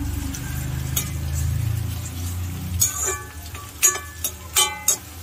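Onion, garlic and fresh curry leaves sautéing in a pan, starting with a low hum, then a few sharp clinks and scrapes of a spoon against the pan, close and fairly loud, without talk.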